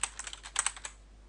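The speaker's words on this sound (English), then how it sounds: "you can just click back in the box and type it in manually" Fingers tap out a quick burst of keystrokes on a computer keyboard, about a dozen close, light clicks in uneven rhythm over a faint background hum, then stopping.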